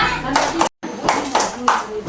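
Children at an Indonesian school doing the P5 clapping chant, rhythmic group claps mixed with chanting voices, split by a brief cut of silence, then continuing in the same pattern.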